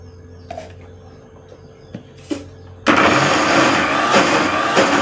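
After a few light clinks and taps, a wet grinder loaded with horse gram switches on and runs as a loud, steady whirring grind for the last couple of seconds.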